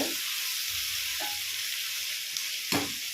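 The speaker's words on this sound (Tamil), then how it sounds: "நல்லா சுருள எண்ணெயிலேயே நல்லா வதங்கணும்" Eggplant chutney ingredients sautéing in oil in a pan, a steady close sizzle with a few soft stirring scrapes, alone.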